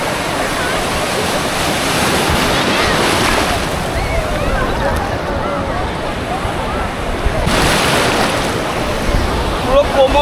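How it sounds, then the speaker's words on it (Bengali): Ocean waves roll in at Kanyakumari, close and loud, in two swelling surges of rushing, churning water with wind buffeting the microphone. "এই যে ঢেউ আসছে"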